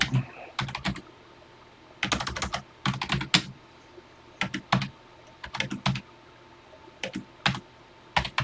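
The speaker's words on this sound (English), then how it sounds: "I want to type it exactly as written." Keys clatter on a TI-99/4A home computer keyboard while a BASIC program is entered, with short bursts of crisp clicks separated by pauses, close and clear and with no voices.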